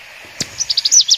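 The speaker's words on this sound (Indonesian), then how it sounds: "ini ada burung punai, teman-teman. Punai tanah" An emerald dove (punai tanah) calls outdoors in the late afternoon: a brief click followed by a quick series of about six short, high, clear notes, close and fairly loud over a faint steady background hiss.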